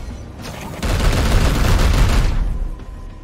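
A loud burst of rapid gunfire in the video game Warhammer 40,000: Chaos Gate Daemonhunter erupts suddenly, a dense volley lasting under two seconds before cutting away.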